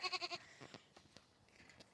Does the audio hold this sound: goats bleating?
yes